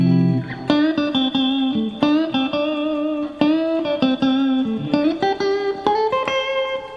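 A guitar picks out a major pentatonic scale as a quick run of distinct single notes, clear and close, with slight effect coloring and no talking.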